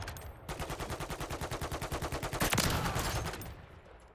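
Rapid automatic gunfire in Call of Duty: Modern Warfare Zombies, a steady burst of evenly spaced shots lasting a few seconds, loud and close, swelling at the end before trailing off.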